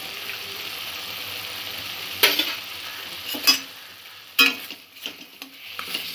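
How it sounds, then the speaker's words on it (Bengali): Spices for a prawn curry are stirred as they fry in a pan, giving a constant sizzle broken by sharp scrapes and knocks of the spoon against the pan. "আবার সব কিছু ভালো করে মিক্স করে নেব"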